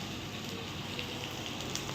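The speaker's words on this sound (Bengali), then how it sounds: "এই যে ভেন্ডি আলু ভাজা হচ্ছে" Okra and potatoes sizzle in a frying pan as a steady, close hiss of crackling oil with tiny pops throughout.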